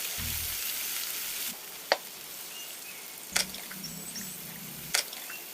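Steady sizzling of onions frying in a pan for an egg fry, broadband hiss throughout with a few sharp clinks of a utensil against the pan.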